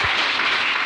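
A church congregation claps and cheers in a dense, steady burst of applause filling the room, brief and fairly loud.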